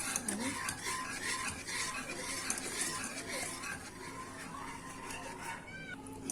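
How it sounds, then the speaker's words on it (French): A spoon scrapes and swirls through thickening pastry cream in a pot on the stove, soft rhythmic stirring with light metallic clinks against the pan, quiet and close with faint kitchen background. "on va remuer jusqu'à la pâte, enfin le liquide va durcir"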